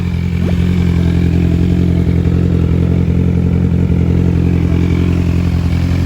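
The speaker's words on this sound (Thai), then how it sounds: "ครูก้าก็สตาร์ทรถไปแล้ว" A Kawasaki Z1000 motorcycle engine idles loud and close after starting, a constant deep rumble with a busy mechanical clatter that holds steady for the whole stretch.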